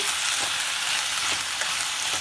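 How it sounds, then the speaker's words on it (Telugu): Ivy gourd pieces fry in a small amount of oil for a chutney, giving a steady, close sizzle while a spoon stirs through them with a few soft scrapes, no voices. "కలర్ కొద్దిగా మారేదాకా ఇట్లాగా తిప్పుతూ ఉన్నాం"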